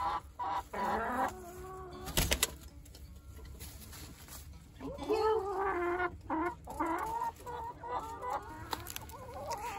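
Hens clucking in a chicken yard, close, drawn-out clucks and murmurs in bursts, one loud scuffle midway, with no talk over them.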